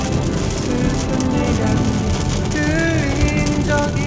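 Steady rain hisses and patters on a surface close by, with voices talking faintly over it.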